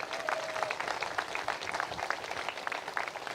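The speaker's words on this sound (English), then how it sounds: "Let's clap it up for them as well." Audience applause at an outdoor statue unveiling honoring Dawn Staley at the University of South Carolina, a steady wash of many hands clapping throughout, moderately loud and continuous.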